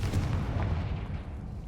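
A Confringo spell explosion in the video game Hogwarts Legacy: a deep, rumbling blast that rolls on heavily and slowly fades, heard alone and up close.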